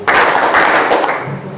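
Schoolchildren in a classroom clapping hands together in a clapping game, a dense loud burst of many overlapping claps in a few quick waves that fade out within under two seconds.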